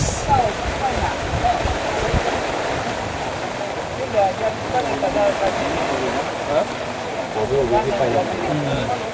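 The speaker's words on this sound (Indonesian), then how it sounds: "Ini hujan juga sudah agak keras ya guys." Steady, dense heavy rain drumming hard and continuously on a car, filling the whole scene with a broad wash of noise; a voice talks over it.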